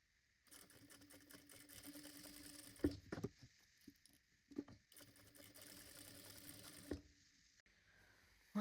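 A sewing machine runs in two long steady stretches stitching around a fabric bodice piece, a fast even whirring hum with a pause and a few handling knocks between; close with no talk.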